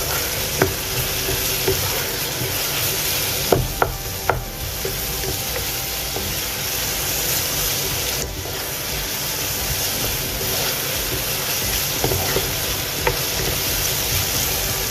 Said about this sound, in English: add in sliced onions. This is 1 onion that I've sliced finely. Okay. Stir fry them.